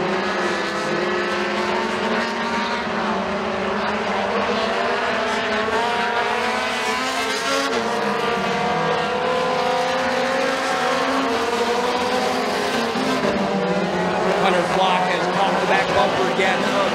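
Mini stock race cars roar around a dirt track at McKean County Raceway, with engines droning and pitching up and down as they pass, heard continuously beneath steady race commentary.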